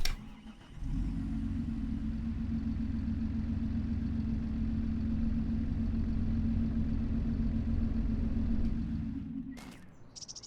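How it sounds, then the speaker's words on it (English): A farm tractor engine idles with a steady low drone for several seconds, alone and fairly close, then cuts off abruptly near the end, leaving brief quiet and a small clunk. "Let's turn the tractor off."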